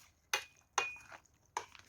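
Macaroni salad stirred in a bowl: three sharp clinks of a utensil against the dish at steady intervals, close and fairly quiet, with no voices.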